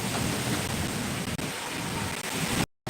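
Steady roar of heavy rain and wind fills the whole clip, a dense continuous wash of noise that cuts out abruptly near the end.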